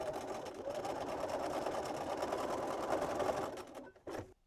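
A sewing machine stitches the seams of a drawstring pouch in thick fabric, running steadily and close for about four seconds before stopping, then giving a short final burst.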